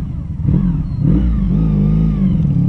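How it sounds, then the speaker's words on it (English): A Honda VF1000R motorcycle fitted with VF1000F carburetors pulls hard at wide open throttle on a road test, its loud, close engine note rising steadily after a brief dip near the start, with no talking. "I just wanna know how it reacts, that wide open throttle."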